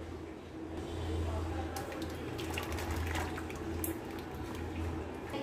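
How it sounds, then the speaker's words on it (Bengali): Milk is poured into an oiled bowl for a mango milk pudding. The liquid runs in a soft, continuous, fairly quiet splash lasting a few seconds. "এবার দুধটা ঢেলে দিব।"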